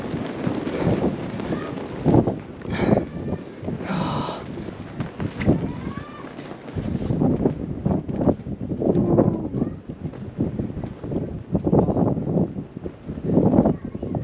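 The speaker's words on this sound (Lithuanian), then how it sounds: "Koks vėjas." Strong mountain wind blows at a Himalayan village about 3,600 m up, a rough, gusting buffet against the microphone that rises and falls throughout while people talk briefly.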